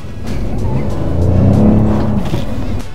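Peugeot 3008 phase 2 from 2017 in sport mode, engine droning steadily as it accelerates, heard from inside with a low, continuous rumble for about three seconds.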